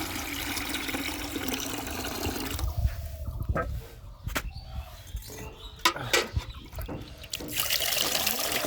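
Water is poured off washed foxtail (kaon) millet, making a continuous trickling and splashing pour with a few louder sloshes and knocks partway through, then steady running water again at the end.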